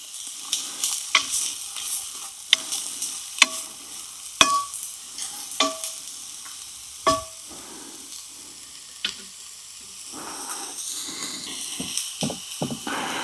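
Chopped yellow onions sizzle in oil in a 10-inch shallow Dutch oven, a steady frying hiss broken by sharp, irregular clacks of a utensil stirring against the pot.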